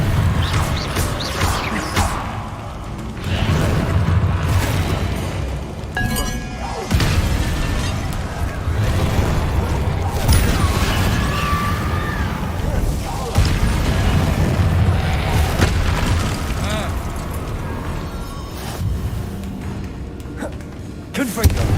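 Spell blasts and explosions from a Hogwarts video game, repeated booming bursts and crashes over a continuous rumbling game soundtrack, with a voice speaking throughout.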